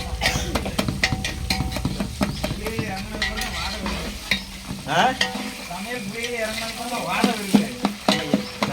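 A spoon stirs and scrapes food around a frying pan in repeated uneven strokes, with steady sizzling underneath, close and fairly loud, as a voice murmurs faintly in the background.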